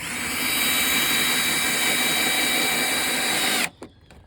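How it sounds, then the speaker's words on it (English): A power drill drives a screw into a plastic rain barrel during an outdoor community rain barrel installation, running loud and steady with a constant whine for about three and a half seconds before stopping abruptly, followed by a couple of faint clicks. "So I'm going to drill the one from this side, and then you'll drill the other one."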